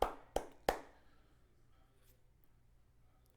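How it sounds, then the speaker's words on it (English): Three sharp hand claps ring out close and alone in a quiet room, a short celebratory applause for a quiz contestant, followed by near silence and a faint final tap. "Round of applause for SjBex72."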